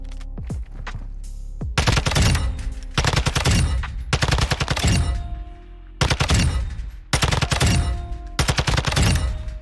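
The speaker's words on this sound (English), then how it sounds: "I'm going to go ahead and show you this inside the firing range." Bursts of automatic TAQ 56 rifle fire echo through a video game firing range, several long loud volleys separated by short pauses, with no talking.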